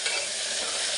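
Green chilli and mint leaves frying in an oil-filled pan, a steady close crackling sizzle throughout with faint stirring, no voices.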